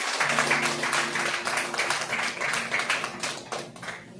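Church congregation clapping during an evening worship service, a dense mass of hands under sustained organ or keyboard tones and singing voices, loud and steady throughout.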